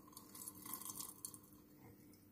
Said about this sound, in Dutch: En goed kijken wat er gebeurt in de kolf als ik er koud water over heb.